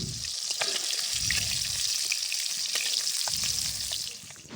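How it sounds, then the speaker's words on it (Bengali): Bori, small lentil dumplings, fry in oil left over from frying fish, a steady loud sizzle with low rumbling bursts from stirring that ease off toward the end. "ওই তেলের মধ্যেই বড়িগুলোকে ভেজে নিচ্ছি।"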